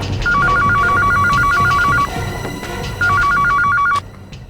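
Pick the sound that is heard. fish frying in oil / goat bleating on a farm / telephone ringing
telephone ringing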